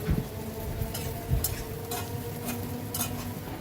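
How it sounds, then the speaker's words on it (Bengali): Onions are fried over medium-high gas in a pan, giving a low continuous sizzle broken by a few sharp scraping clicks of a utensil stirring against the metal, close and steady with no talk. "আর অনবরত নেড়ে চেড়ে পেঁয়াজটাকে আমি খুব ভালো করে ভেজে নেব।"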